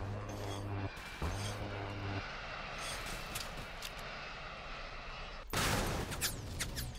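An airstrike in the War Tycoon video game roars in as a dense, loud wash of engine drone, rapid gunfire and blasts, with a sudden heavy burst near the end.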